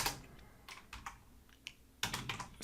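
Keys clatter on a computer keyboard in short quiet bursts, a flurry of taps, a pause with scattered clicks, then another quick run of typing close to the mic.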